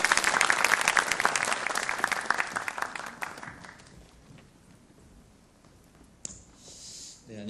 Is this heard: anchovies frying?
no